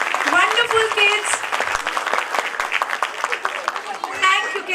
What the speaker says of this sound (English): Claps for them.